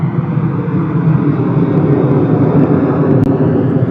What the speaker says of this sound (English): Ryanair going very steep on the departure on that one.